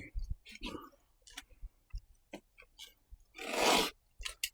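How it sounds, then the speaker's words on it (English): A small piece of scratch cardboard is cut in half, with a few scattered clicks and snips and one louder burst of rough scraping near the end, heard between short stretches of talk. "Just a little piece of cardboard. We're going to cut this in half."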